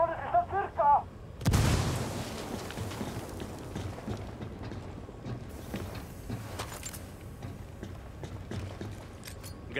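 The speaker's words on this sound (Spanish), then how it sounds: "¡Explosión! ¡Granada!" A heavy grenade blast booms near the start of a Ghost Recon Wildlands game scene, followed by a dense stretch of crackling gunfire and rattling, with brief Spanish shouting just before the explosion.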